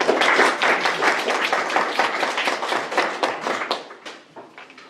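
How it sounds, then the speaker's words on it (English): At a district spelling bee, a crowd claps in a dense burst that starts loud and fades gradually over about five seconds, tapering to a few scattered claps. "let's clap those back"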